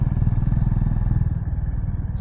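A motorcycle engine putters steadily nearby on an expressway with a rhythmic low throb, briefly joined by a hiss at the end.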